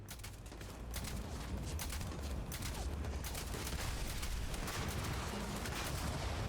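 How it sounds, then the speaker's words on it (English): Gunshots in Starfield come as a dense, continuous barrage of loud rapid-fire bursts over a heavy rumbling din. "How are none of these shots connecting?"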